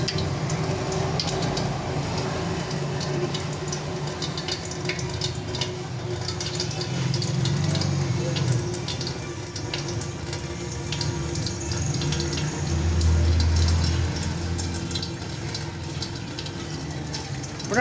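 Tap water runs steadily into a sink while a pressure cooker is washed, a continuous close gush with slight swells and no talking.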